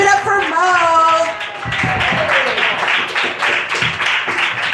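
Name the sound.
audience applause at an open mic comedy night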